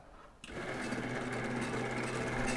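A noodle-making machine, set to cut flat kway teow noodles, starts up after a brief quiet moment and then runs with a steady, loud mechanical whir and hum.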